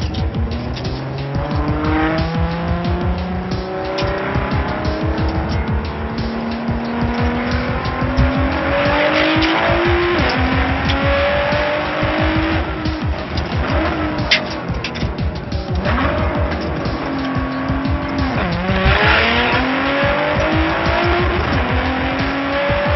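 A Nissan GT-R NISMO race car is driven hard on a track, its engine roaring loud and close with rising and falling revs through gear changes, mixed with squealing tires throughout.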